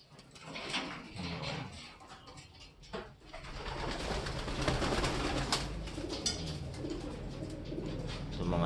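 Pigeons coo softly in a loft among breeding hens and checkered birds, repeated low throaty calls over a steady hiss of the room, with occasional rustles and knocks nearby.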